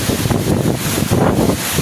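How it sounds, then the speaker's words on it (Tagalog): Strong typhoon wind blasting across a coastal village with boats clustered nearby, a loud dense roar with rapid buffeting gusts hitting the microphone, steady and unbroken. "Bagyong Juan po, napakalakas."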